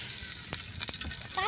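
Oil heats and sizzles in a pan while chicken tandoori is being prepared, giving a steady hiss with a few brief clinks and splashes, close and moderately loud.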